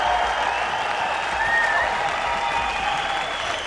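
Crowd at a UFC Fight Night weigh-in in Glasgow cheering and applauding for the main event, a dense continuous roar of clapping and shouts.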